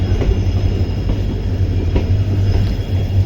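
The Shivamogga–Mysuru Express, train 16226, arrives at an old heritage railway station with a loud, steady rumble of rolling coaches and faint rhythmic wheel clacks, close by and continuous.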